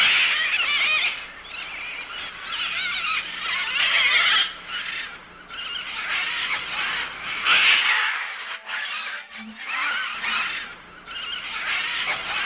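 Macaws and parrots calling in the Amazon rainforest at Manu, harsh raucous squawks repeating in overlapping bursts, loud and close, with a brief quieter gap partway through and no voices.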